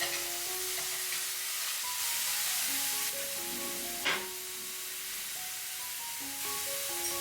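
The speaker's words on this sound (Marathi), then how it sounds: "आता आपल्याला कांदा छान कलर चेंज होईपर्यंत फ्राय करून घ्यायचा आहे." Chopped onion fries with whole spices in a pan, giving a soft continuous sizzle beneath steady tonal music, with a brief louder clatter midway.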